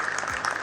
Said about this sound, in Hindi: एक बार आप ताली बजा दो तो मैं सुनाता हूँ।